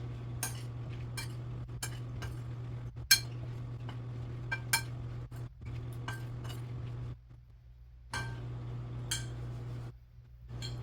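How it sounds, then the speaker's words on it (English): Mushrooms are dredged in cornstarch, with clinks and taps of a utensil against a dish at irregular moments over a steady low kitchen hum, close and moderately quiet. "I'm going to coat each one with the cornstarch"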